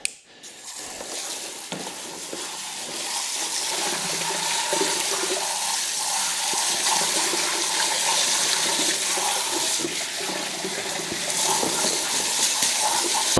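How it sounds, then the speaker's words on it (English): Steady water from a hose rinsing a dirty surface cleaner over a garage floor drain, a continuous hissing splash that runs unbroken and fairly close. "So I just rinse it directly into my drain."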